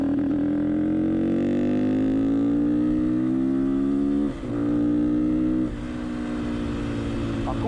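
A Honda XLR125R single-cylinder motorcycle fitted with a racing camshaft runs close by, its engine holding a steady, buzzing note that climbs slowly, dips briefly twice and then settles, loud and continuous throughout.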